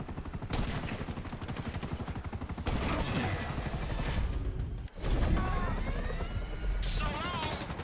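Police helicopter in the GTA 5 video game story mode, a steady rotor chop running under dense gunfire bursts and game action throughout, with a brief dropout near the end before the din resumes.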